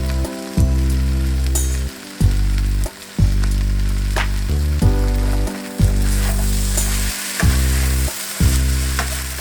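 Shrimp fried rice seasoned with Chinese five spice sizzles loudly in a single pan while it is stirred, with a steady crackling fry broken by repeated scraping strokes and short pauses.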